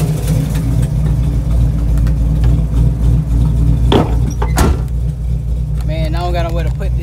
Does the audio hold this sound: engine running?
yes